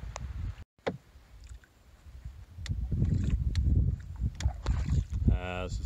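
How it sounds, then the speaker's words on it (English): Canoe paddle strokes in water on the Bog River Flow in the Adirondacks among lily pads, with soft splashing and knocks of the paddle used like a rudder, close by and mixed with wind and occasional talk. "Kind of using my paddle as more like an oar, or like a rudder."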